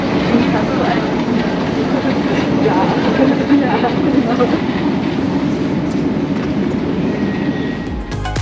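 Airport train on the way to a US flight, a continuous near rumble of rolling carriages that fades slightly toward the end, with faint voices in the background.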